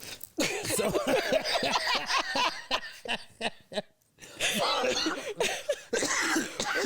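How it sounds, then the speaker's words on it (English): Repeated hacking coughs mixed with laughter, loud and close, coming in bursts with brief pauses between them. "you got me coughing"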